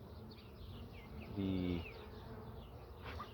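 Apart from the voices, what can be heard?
worker honey bees buzzing around hive frames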